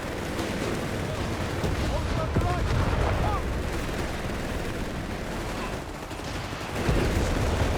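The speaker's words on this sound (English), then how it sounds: "Artillery fire as well here" Artillery fire in the WWII strategy game Company of Heroes 3 rumbles as a dense, continuous barrage of low booms and crackling battle noise, with a heavier burst near the end.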